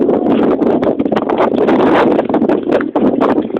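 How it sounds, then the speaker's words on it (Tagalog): Strong wind roars and buffets the microphone in loud, rough gusts throughout, with a brief dip near the end. "Ang lakas po ng hangin ngayon."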